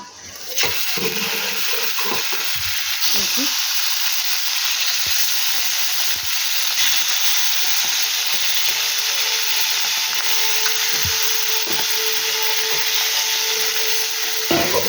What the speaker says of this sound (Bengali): এবার আমি ইলিশ মাছগুলো দিয়ে দেবো আস্তে আস্তে।